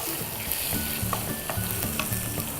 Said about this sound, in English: I love the smell of frying garlic.